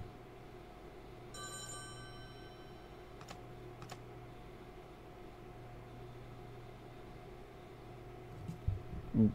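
A telephone rings in a SpongeBob indie horror video game: a brief electronic ring burst early on, followed by a low steady hum, a couple of soft clicks and a thump at the end, all faint.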